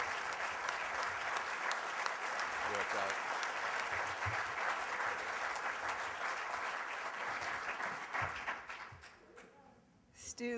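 Sustained audience applause for an honored guest at a regional economic summit, dense steady clapping that carries on for several seconds before thinning out and fading near the end.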